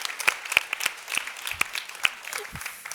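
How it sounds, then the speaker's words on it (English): An audience in a room at a women-in-AI enterprise event applauds, a sparse scattering of separate hand claps at close range rather than a dense ovation, with a little speech in the background. "So a huge round of applause to each of you for being in this room today."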